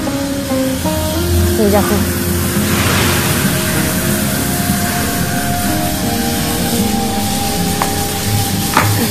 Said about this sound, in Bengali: আজকে আমি তোমাদের দেখাচ্ছি কিভাবে আমরা গাছে জল দিই